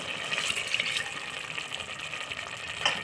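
Water is poured into a sprouted lentil gravy before the cooker is closed, giving a close, steady trickling and splashing pour that holds for about three seconds at a modest level.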